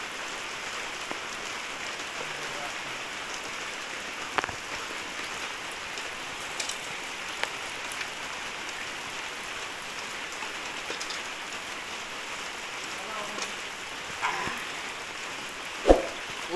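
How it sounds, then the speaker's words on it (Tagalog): Steady rain falls on surfaces outdoors, a continuous even patter with scattered louder drips and knocks, moderately close and without voices. "Ulan."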